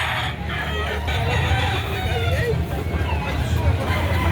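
Roosters crow and hens cluck at a busy poultry market in Padre Garcia, Batangas, over a steady hubbub of crowd chatter and low background noise.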